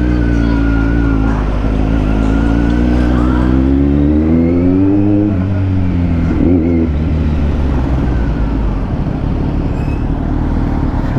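A Kawasaki Z900 SE motorcycle engine revs steadily and loudly close by after an idle speed adjustment, its pitch rising and falling in smooth sweeps over a constant low rumble.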